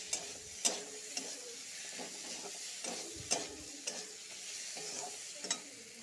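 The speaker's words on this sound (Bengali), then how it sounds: "এটার সাথে ভালো করে আবার ভাজবো।" Spices sizzle and fry in hot ghee with fried fish heads for muri ghonto, with repeated sharp scraping and stirring strokes against the pan throughout.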